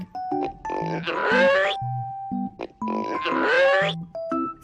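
Two bursts of squealing, grunting piglet sounds, each surrounded by short musical tones, separated by a brief pause.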